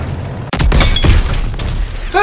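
Loud, rumbling explosions and heavy thuds as a tank is destroyed in Call of Duty: WWII, dense and chaotic, with no clear pause between blasts.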